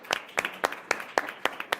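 An audience claps in bursts of applause to welcome a technology leaders' panel onto the stage, the claps sharp and evenly spaced, fairly close and with no voices over them.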